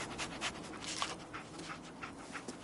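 Dogmeat, the dog from the video game Fallout 4, panting in quick, soft, rhythmic breaths, close and faint with no one talking.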